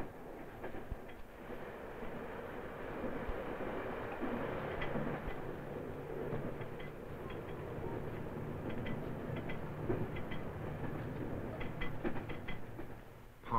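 A train rumbles steadily along the rails between Leeds and Harrogate in the 1970s, with a continuous low roar and faint rhythmic clatter throughout.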